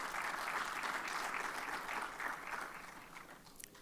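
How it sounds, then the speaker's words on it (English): Audience applause welcoming a professor to the floor at a fireside chat on intra-African investment, a steady round of clapping from a modest crowd, moderately distant and tapering off near the end. "Please join me to give a round of applause in welcoming Professor Atif to the floor."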